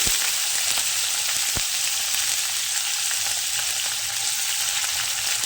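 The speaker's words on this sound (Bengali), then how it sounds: "এবার এইভাবে কেটে রাখা পেঁয়াজগুলো দিয়ে দিচ্ছি।" Chopped onions fry in hot oil in a village kitchen, a loud, steady, close hiss of sizzling with a few sharp crackles and light stirring taps, and no one speaking.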